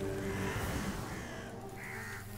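A raven gives a harsh, drawn-out caw in the game Ravenswatch, fairly close and loud over a dense background of game music and ambience.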